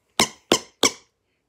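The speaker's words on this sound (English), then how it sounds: "if you open it one way, it squeaks." A Blackpink light stick gives three short, evenly spaced squeaks, each a sharp bright burst that fades quickly, close up and loud in an otherwise silent room.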